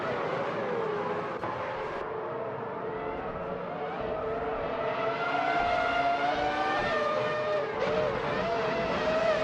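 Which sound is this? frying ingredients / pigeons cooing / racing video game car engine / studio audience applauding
racing video game car engine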